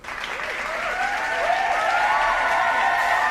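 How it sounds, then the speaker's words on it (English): A crowd claps and cheers for a contestant at a rap battle event, the applause swelling and holding steady as a few whoops rise above it. "Y'all give it up for Lyric Genius coming in"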